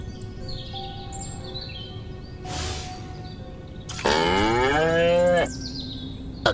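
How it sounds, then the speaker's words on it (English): A cow moos in the Destroy All Humans game: one long, loud, wavering moo over a steady game ambience, with an earlier brief rustle and faint bird-like chirps. "Again with the moo?"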